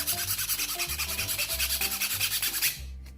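A metal file is rubbed rapidly back and forth across the tip of a Torx screwdriver bit, producing close, rhythmic rasping strokes that stop abruptly near the end.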